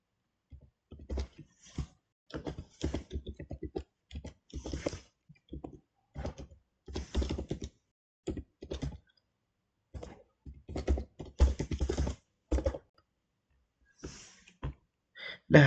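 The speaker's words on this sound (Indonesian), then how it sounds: "Sekarang kita coba ketik di username dan" A username and password are entered on a computer keyboard, heard as quiet, irregular clusters of close key clicks separated by short pauses.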